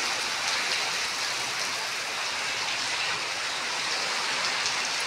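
Heavy rain pours steadily outside a house during a windy storm, a dense, unbroken hiss that stays loud and even throughout with no voices.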